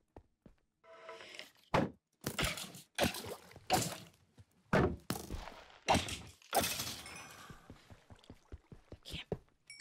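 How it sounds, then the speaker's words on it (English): A skeleton spawner in Minecraft is broken, a series of loud, sharp block-breaking cracks and thunks in an irregular rhythm that thin into quieter ticks, with talk in the gaps. "we just destroyed that skeleton spawner very, very quickly"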